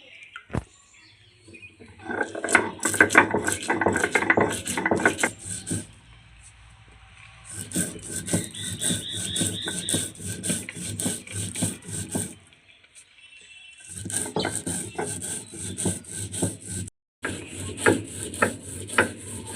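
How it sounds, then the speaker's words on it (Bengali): Black mustard seeds are ground with salt on a flat grinding stone, giving rhythmic, close, scraping strokes in repeated bursts separated by short pauses. "সর্ষে, কালো সর্ষে একটু আমি শিলে বেটে নেব লবণ দিয়ে।"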